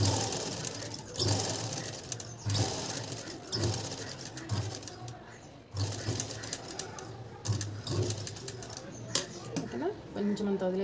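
A sewing machine stitches a blouse lining in repeated bursts of fast mechanical whirring, broken by short pauses, while someone talks throughout.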